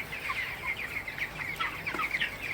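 Nineteen-day-old broiler chickens in a tin-roofed shed cluck and chirp continuously as a busy flock, soft and a little distant, with no talk.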